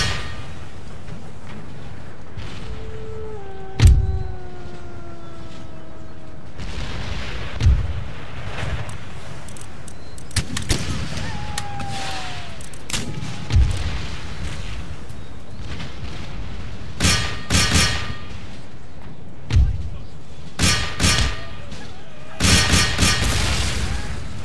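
Mortar and artillery fire in Empire: Total War, booming blasts scattered across the battle, some heavy thuds and clustered volleys over a constant rumbling battlefield, with whistling shells descending early on.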